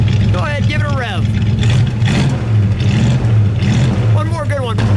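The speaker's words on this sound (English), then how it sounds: "Go ahead, give it a rev." A 1967 AMC Rambler Rogue with a 343 V8 and four-speed revs loudly in two sharp bursts near the start and end, with a steady engine rumble between them and someone talking over it.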